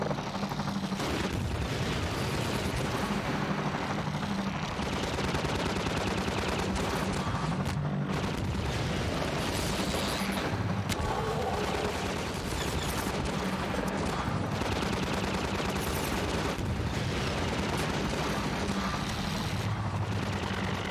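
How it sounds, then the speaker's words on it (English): Exploding barrel blowing up amid steady gunfire in Half-Life 2, a dense, continuous roar of shots and blasts that never lets up. "Bad place to put an exploding barrel?"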